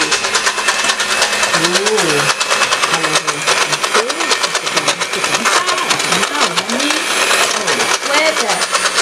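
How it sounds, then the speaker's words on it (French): Eggs and sugar are whisked for a chocolate lava cake, a continuous buzzing whir that runs under lively talking throughout. "maintenant tu as mélangé les œufs avec le sucre, c'est bien ça? Maintenant on va fouetter tout ça."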